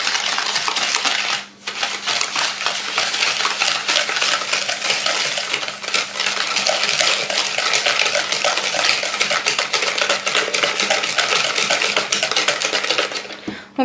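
Sugar is stirred into a mixture in a bowl, a continuous close scraping and clinking of a utensil against the bowl that rattles steadily for over ten seconds with a brief pause near the start.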